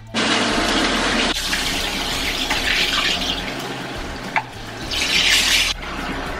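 Water runs from a tap into a pot while chicken is cooked from scratch, a loud steady splashing pour that stops briefly, resumes, then surges again near the end, with no voices.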